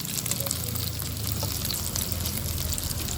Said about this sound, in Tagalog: Saka natin siya igisa.